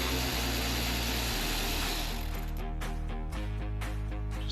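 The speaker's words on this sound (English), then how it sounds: "let's use a ratchet with an extension, 10mm socket, and remove the Stinger Heigh10 computer and radio." A ratchet with an extension and a 10mm socket loosens bolts on a car's head unit, giving rapid clicking pawl ticks close by that start after a steady background hum.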